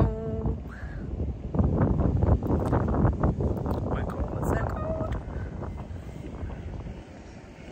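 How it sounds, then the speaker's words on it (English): Gusty wind buffets the microphone with low rumbling bursts, under a person talking, easing off toward the end. "Oh my God, it's so windy."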